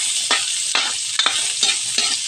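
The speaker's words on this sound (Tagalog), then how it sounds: "So, brown muna natin kaunti yung bawang at sibuyas." Garlic and onion browning in a pan for ginisang pechay with pork, a loud bright sizzle broken by several quick spatula stirs, with no voices.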